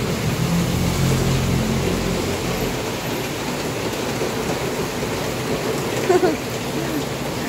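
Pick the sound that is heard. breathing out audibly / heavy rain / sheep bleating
heavy rain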